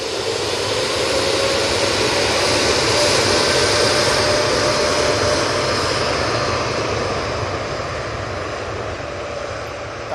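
Jet airliner engines of a Virgin Atlantic plane at Manchester Airport roar loudly and steadily throughout, a broad sustained whine and rumble with no talk.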